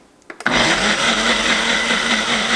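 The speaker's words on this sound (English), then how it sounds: "And I'm going to blend that much right there." A countertop blender switches on and runs steadily on fermented mustard, a loud, dense whirring roar that starts after a few short clicks and holds unbroken to the end.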